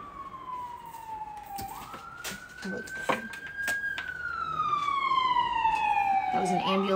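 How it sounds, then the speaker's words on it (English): An ambulance siren wails outside as it passes, a sweeping rising and falling tone that grows louder toward the end over quiet indoor background and a voice. "That was an ambulance."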